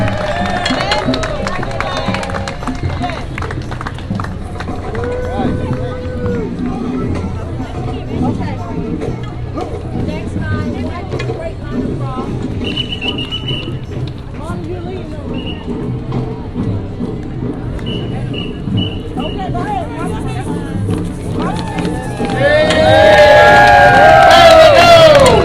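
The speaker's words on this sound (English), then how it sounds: "Let's have a round of applause for Mrs. Green and the Star Center Theater." Outdoor Flying Pig Parade crowd applauding and cheering for a theater group passing by, with loud overlapping shouts, whoops and scattered clapping amid a busy hubbub that swells louder near the end.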